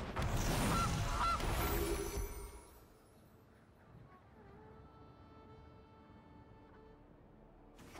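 The Gilded Goose card in MTG Arena lets out a loud burst of goose honking lasting about two seconds, then fades into a quiet game background hum.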